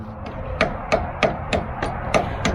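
Hammer chipping hardened concrete that oozed out of the seams between concrete form panels: six or seven sharp, evenly spaced strikes, close and fairly loud, with no talk.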